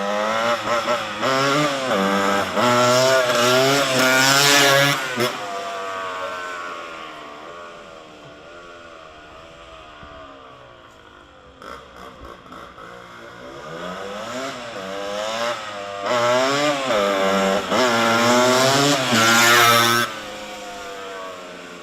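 A 1977 Yamaha IT175 motorcycle rides past, its engine loud and revving high near the start, fading into the distance mid-clip, then climbing back to a loud, close rev toward the end.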